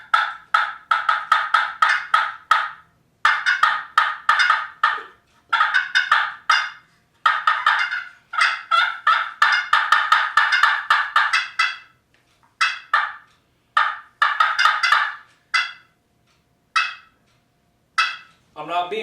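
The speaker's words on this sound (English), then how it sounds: "when I got that live hen in, see, she's cutting at me" A live wild turkey hen gives sharp, excited cutting calls close by, roughly 20 yards away: rapid bursts of clucks in irregular runs with brief pauses, loud and clear, with no talk over them.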